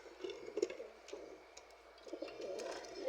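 Pigeons, including a white one, cooing in a soft, repeated rhythm close by, with low murmuring coos and a few faint chirps running steadily throughout.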